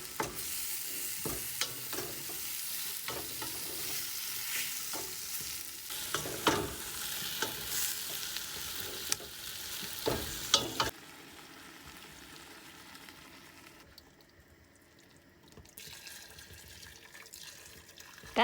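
Curry spices being stirred in a pan, a busy sizzle with repeated scraping strokes for about eleven seconds, then dropping to a much quieter low hiss.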